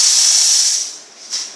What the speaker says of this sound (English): two high pressure steam wands for good quality milk foaming